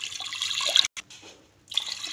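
Water poured into a pressure cooker holding pigeon pea (toor) dal, a close splashing, gurgling pour that breaks briefly, then resumes before trailing off.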